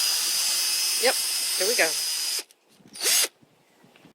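A power drill fitted with a magnetic bit whines steadily while driving a screw, running under a person's nearby speech for a couple of seconds before cutting off, followed by a short burst of noise.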